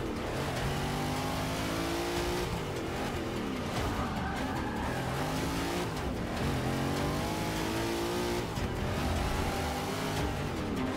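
Race car engine in Forza 6 video game revving and whining up and down while drifting, a steady loud engine tone with shifting pitch and faint tire scrub throughout.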